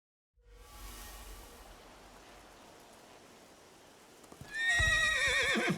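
A horse neighs and whinnies loudly near the end of an in-game moment in Skyrim, after several seconds of steady hissing ambience and faint hoof clatter; no one speaks.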